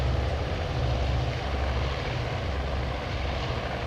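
Carrier-based aircraft taking off in the naval warfare video game Task Force Admiral, heard as a steady, loud propeller engine drone with a deep rumbling low end that holds constant throughout.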